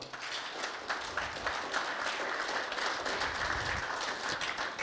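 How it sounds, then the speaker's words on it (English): A small breakfast audience claps hard for a practice round, producing a dense, steady wash of applause that holds evenly at moderate loudness throughout without a break. "we're encouraged by clapping our hands quite hard"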